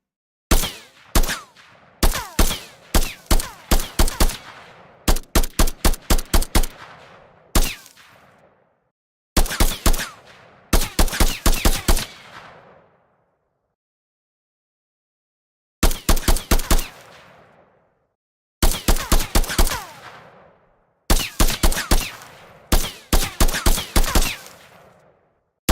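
Gun firing in an Unreal Engine 5 game project: loud, close bursts of rapid automatic shots in short strings, separated by brief silences, with no talking.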